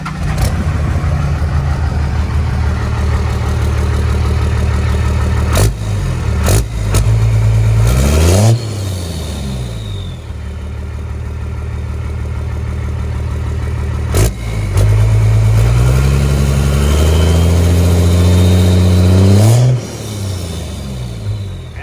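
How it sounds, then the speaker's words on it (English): Cummins diesel engine with a 4-inch MBRP exhaust and muffler starting and idling loudly, then revved repeatedly in rising and falling pulls, deep rumbling tone close up. "Give you guys a little startup, couple different variations of the revs on it so you can hear it,"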